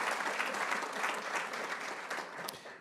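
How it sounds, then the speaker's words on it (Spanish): Audience applause at a product launch event, a steady wash of many hands clapping at moderate level for about three seconds, fading slightly toward the end. "Así que también un aplauso para todos ellos que se han tomado todo el tiempo."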